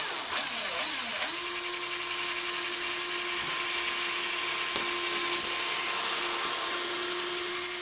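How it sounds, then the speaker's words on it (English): A power drill whirs steadily at close range while drilling pilot holes in wood, spinning up and holding a constant high-pitched drone through the clip. "I drilled some pilot holes"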